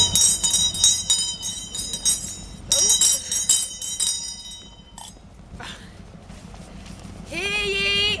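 A town crier's handbell clangs loudly in rapid bursts, pausing and ringing again; a voice calls out right after the ringing stops.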